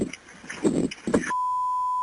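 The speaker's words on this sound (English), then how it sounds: "did you hear the bleep sound?" A recorded phone call with a muffled voice on the line, then a steady, sustained electronic bleep tone takes over and holds to the end.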